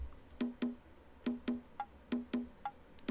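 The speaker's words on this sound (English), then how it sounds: "I've also pulled in these conga sounds." Conga drums tap out a steady, light groove in repeating pairs of short, tonal hits, sitting quietly over a soft background.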